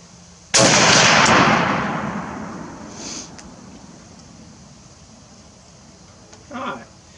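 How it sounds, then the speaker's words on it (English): An M1 Garand rifle firing outdoors, one loud sharp report with a long rolling echo, followed by fainter distant cracks, heard close with no talk. "we shot 5 rounds there"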